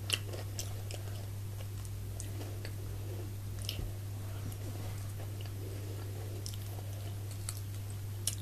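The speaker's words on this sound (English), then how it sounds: "I'm going to try a chocolate ball now." Close-up chewing of a chocolate ball filled with melted chocolate, soft wet squishing bites with faint clicks over a steady low hum, no talking.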